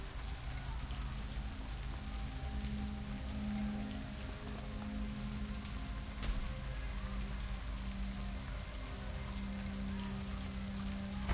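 Rain falls steadily in Shadowrun: Hong Kong, a soft, even hiss of drops with a low ambient hum beneath it, continuous and fairly quiet throughout.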